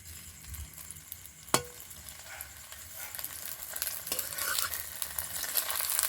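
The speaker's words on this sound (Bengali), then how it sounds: "এভাবে খুন্তি দিয়ে একটু চেপে চেপে ঘুরিয়ে ঘুরিয়ে ভেজে নিতে হবে" Paratha fries in oil while a spatula presses and turns it, giving a soft continuous sizzle with a sharp scrape of metal early on and rising, busier frying hiss toward the end.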